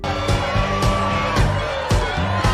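A big crowd cheers and whoops at a hall fundraiser concert in The Country Bears, with rhythmic bursts of shouting over loud background music.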